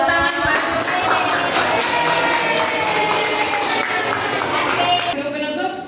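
Applause fills a classroom, a steady dense wash of many hands clapping for several seconds with voices mixed in, then quickly dying away.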